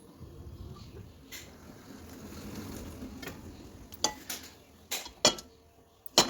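Pressure cooker on a gas stove with oil added, heard as faint metallic clinks and knocks of utensils against the pot, several sharp taps near the end over a quiet low background.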